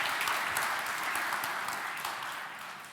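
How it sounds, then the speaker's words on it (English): An audience at an automotive forum in Lithuania gives dense applause, a thick wash of many clapping hands that starts strong and gradually tapers off over three seconds. "Yes, applause, big applause."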